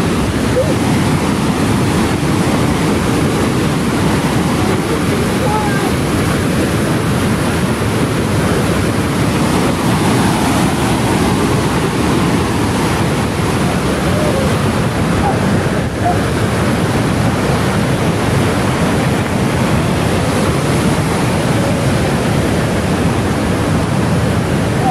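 A turbulent creek and waterfall at Duchesney Falls roars continuously, loud, dense and unbroken, like surf, with wind buffeting the microphone.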